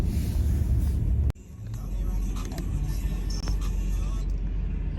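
A car rolls along a road on a stormy, snowy day, giving a steady low rumble with road and wind noise throughout, plus a brief thump near the start.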